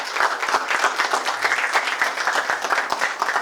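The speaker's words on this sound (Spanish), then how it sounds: "Un aplauso para él." An audience applauds Major General Soto Jiménez at a talk, a lively burst of many hands clapping with sharp individual claps standing out, sustained throughout.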